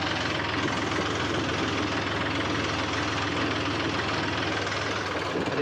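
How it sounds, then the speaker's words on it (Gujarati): A heavy diesel tractor engine drones steadily and evenly throughout, a low throbbing hum with no pauses or voices. "જમીન હવે ટ્રેક્ટર લઈને જાય છીએ"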